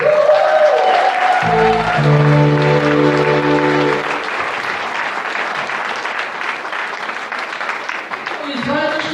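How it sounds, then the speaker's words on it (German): A crowd at a Cologne carnival session applauds loudly and steadily, with a sustained held tone briefly audible and a voice speaking over the clapping. "auch ein dicker Applaus an Horst Müller und Team"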